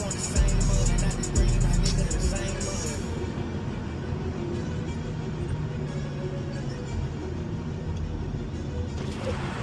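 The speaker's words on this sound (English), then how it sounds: "Downshift." BMW M340 engine after a downshift while driving, a steady loud low drone of engine and road noise filling the cabin, slightly stronger at the start and holding even throughout.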